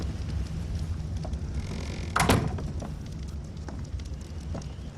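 Campfire in the video game ARK: Survival Evolved crackling steadily over a low roar, with one louder burst or pop near the middle; no talking.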